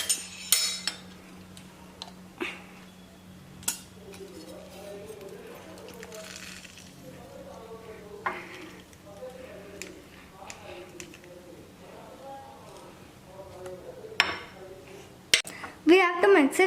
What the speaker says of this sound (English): We have to mix it nicely now.